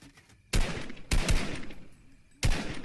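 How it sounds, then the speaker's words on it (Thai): Gunfire in the Fortnite video game: three loud, close bursts of shots, each ringing out sharply before a quieter gap, with no voices over them. "ยิงเลยซันนี่ยิงให้"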